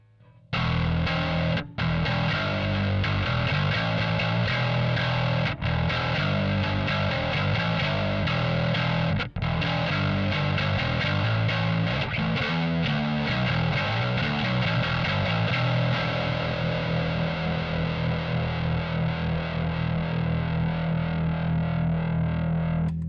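Fender 75th Anniversary Precision bass played through a gritty, driven tone, steady and loud for over twenty seconds with a few brief cut-outs, no talking.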